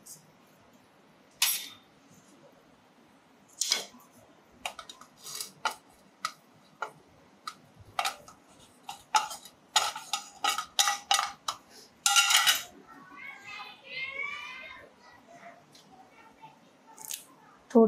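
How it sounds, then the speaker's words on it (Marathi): Cumin and other spices for a spicy egg curry masala pounded in a mortar and pestle: irregular, sharp close knocks and thuds, with a softer gritty grinding stretch near the end. "आता मी खलबुत्यातच मसाला काढणार आहे"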